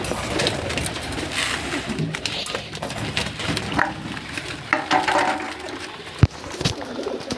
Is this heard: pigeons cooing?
yes